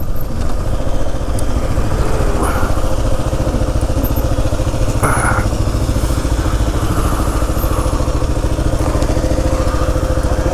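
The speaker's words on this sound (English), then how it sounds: "We're going to park the bike and we are going to go relax." Kawasaki KLR 650 motorcycle engine running steadily, a loud continuous close-up idle with rhythmic low thumping and occasional faint clatter, as the bike is parked at a motel.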